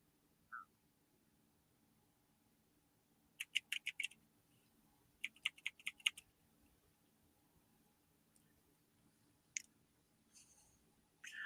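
Quiet bursts of computer keyboard typing come as two short clusters of rapid clicks, followed by a few isolated keystrokes against near silence.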